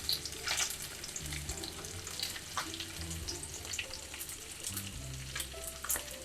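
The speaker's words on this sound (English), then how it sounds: "my bacon's been cooking on the other side for just a couple of minutes" Bacon frying crisp and golden in a pan, a steady close sizzle and crackle with faint pops and a few low knocks, without any talking.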